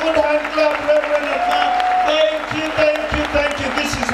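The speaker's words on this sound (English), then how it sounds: "Can we give the Lord a good hand clap, Reverend?" A church congregation in Utawala, Nairobi claps for the Lord. Dense, continuous applause runs throughout with crowd voices and a sustained tone mixed in, and people speak over it.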